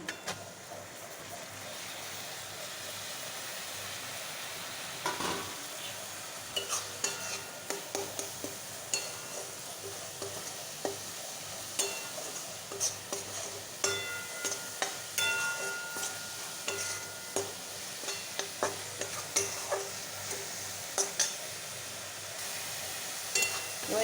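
Grated coconut dry-roasting in a pan, with a steady soft hiss under frequent scraping and clinking strokes of a spatula against the metal as it is stirred, close and fairly loud throughout.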